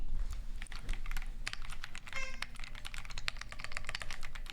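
Rapid, crisp clacking keystrokes on a Keychron Q6 mechanical keyboard, recorded close and steady throughout, with no talking.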